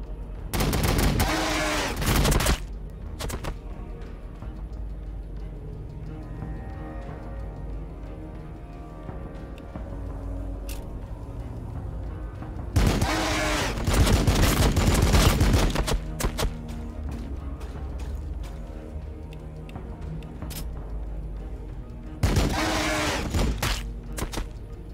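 Sustained gunfire in the Warhammer 40K: Battlesector game, dense volleys of rapid shots that swell into loud bursts at the start, middle and end over a constant battle rumble.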